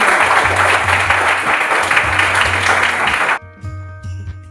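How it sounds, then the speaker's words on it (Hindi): Audience applause at a Hindi-language training seminar, a dense sustained burst of clapping from a crowd for about three and a half seconds, then cutting off to quieter room sound with a few scattered claps. "एक बार ताली हो जाए।"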